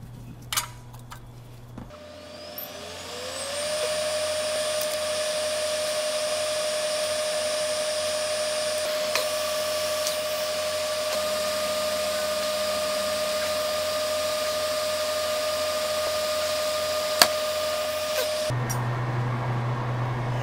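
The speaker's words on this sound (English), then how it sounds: "Turn on the fume extractor." A solder fume extractor fan switches on and spins up, then runs as a steady whirring drone with a clear tonal whine before cutting off near the end, heard close by with no talking.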